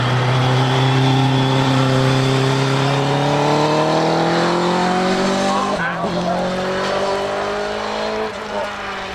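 Hillclimb race car with an overbored Suzuki Hayabusa motorcycle engine at the Harewood quarry finish, a loud high-revving engine note sweeping steadily downward over several seconds as it passes, with an announcer talking over it and brief tyre noise near the end.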